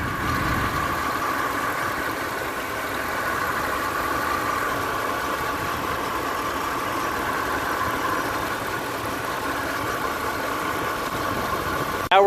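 A 2007 Ram 1500 with the 5.7L Hemi V8 idles steadily, before an engine flush, its even mid-range drone and hum holding unchanged from start to finish at a moderate, constant loudness, with no talk over it.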